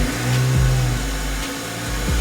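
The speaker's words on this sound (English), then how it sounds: "we're going to start the car" A 2005 Ford Focus being started in neutral: the engine catches with a brief crank, rises in a short rev, then settles into a steady mid-pitched idle close by.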